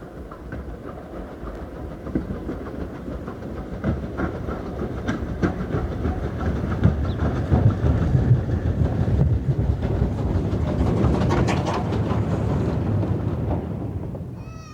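BR Standard Mogul steam locomotive 76017, built at Horwich in 1952, running on the Mid-Hants Railway in Hampshire, a rumbling, clattering train passage that builds in loudness and fades near the end.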